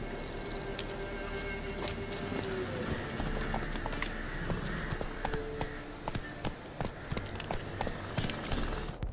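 Horse hooves in the video game The Witcher 3 clip-clop in a steady walking rhythm throughout, crisp and fairly close, over a soft ambient background with game-like sound effects.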